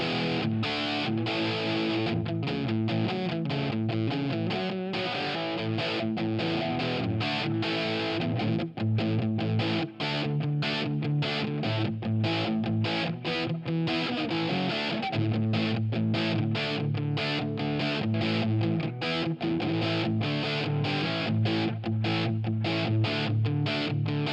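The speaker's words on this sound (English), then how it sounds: "let's look at the Delta Labs Rock Distortion" An electric guitar plays riffs and chords through a Delta Labs Rock Distortion pedal into a POD HD500X. The tone is thick and saturated, with a steady stream of picked notes and short pauses between phrases.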